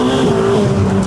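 Sports car exhaust, with the exhaust line noted as missing, roars loudly and close as the engine accelerates, its pitch rising over a short burst.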